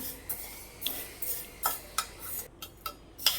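Fenugreek seeds dry-roasting in a pan over a low-to-medium gas flame, heard as a string of light scraping stirs and small metallic clinks of a spoon against the pan, spaced about every half second, close and fairly soft.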